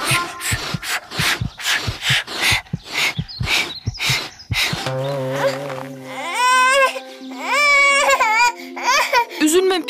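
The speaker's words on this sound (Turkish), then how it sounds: "Bir ağlama sesi duydum sanki burada." A cartoon character cries in wavering, high-pitched sobs after a stretch of animated speech, with a steady background tone running under the crying.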